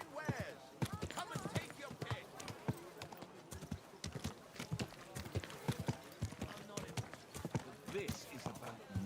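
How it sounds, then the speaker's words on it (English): Horse hooves beat out a quick, steady clip-clop close by in Kingdom Come Deliverance 2, continuing under ongoing conversation throughout. "Easy, good horse."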